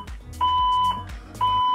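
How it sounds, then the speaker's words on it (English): A building fire alarm sounds close by in repeated electronic beeps, a steady tone pulsing on and off about once a second over a low buzzing pattern. "There's a fire alarm in the building."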